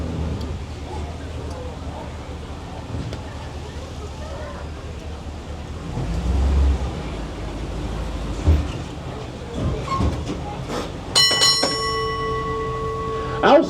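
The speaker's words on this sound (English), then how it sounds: "Please wait until I stop and the bell rings." A tour tram's bell rings out clearly in St. Augustine, Florida, a bright sustained ding near the end above low engine rumble, passing traffic and outdoor street noise.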